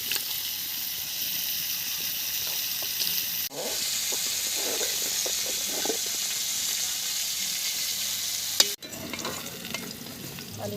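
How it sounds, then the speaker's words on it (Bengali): Potatoes frying in oil in a pan while khichuri is being cooked, a dense continuous sizzle close by with brief interruptions and small stirring clinks, no talk. "আলু ভাজা হয়ে গেছে, তুলে নিচ্ছি"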